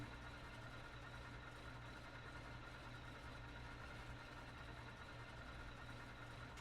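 Ford Trimotor engine number one idling steadily after a cold start in Microsoft Flight Simulator, a continuous low droning rumble held at even loudness throughout with no talking.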